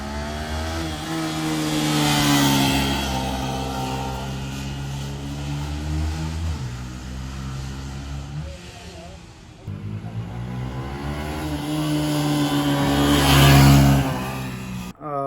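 A Yamaha R3 motorcycle lapping a race track, its engine note rising and falling through the gears as it accelerates and brakes, loud and continuous throughout.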